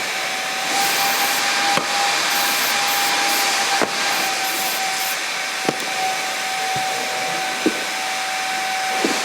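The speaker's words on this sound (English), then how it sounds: "spraying some graphite on them, lubing them up so they're ready for next year" Graphite lubricant hisses from a spray can in a loud, continuous stream, broken by a few sharp clicks and knocks.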